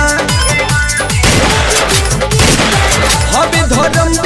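Rapid bursts of gunfire effects rattle loudly in rhythmic volleys through a Bhojpuri song, layered over the music's driving beat.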